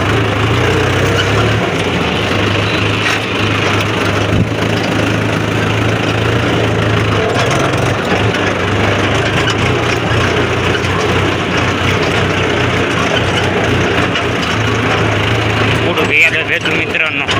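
A tractor engine runs steadily and fairly loud with a low, continuous drone, and a voice talks over it.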